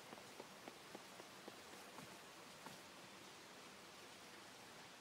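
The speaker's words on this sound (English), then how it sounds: "it's still raining over here." Steady rain hiss from the video game Super Mario RPG, an even soft wash with faint scattered drop ticks, no talk.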